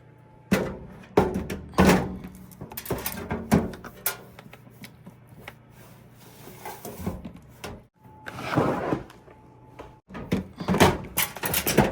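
A seed organizer drawer is handled and pushed shut, giving a series of sharp thunks and knocks with shuffling between them, close and moderately loud.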